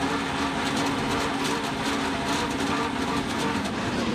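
Steve David's racing hydroplane is heard from onboard during a heat of the 2005 Detroit Gold Cup. Its engine and rushing water make a loud, relentless roar that never lets up.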